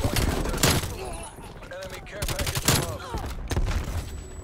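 Bursts of automatic rifle fire in Call of Duty Cold War come in several short volleys separated by brief pauses, with a player talking between and over the shots.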